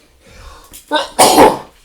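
A single loud, close sneeze, with a sharp intake of breath just before it and a brief airy release after.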